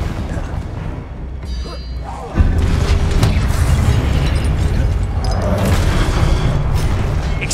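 Confringo blasting spell in Hogwarts Legacy, a sudden loud boom bursting out partway through, followed by sustained rumbling crash and debris noise, with a voice speaking beforehand.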